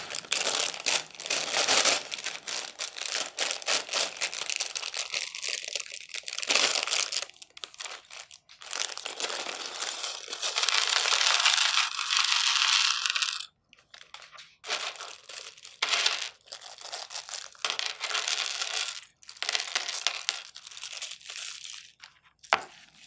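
A plastic bag of Lego pieces for a Cinderella carriage set is torn open and handled, giving repeated close crinkling and crumpling bursts with rustling and brief pauses, no voices.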